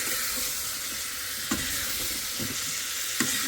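Cumin seeds frying in hot oil, a steady close hiss with a couple of soft knocks from a spoon.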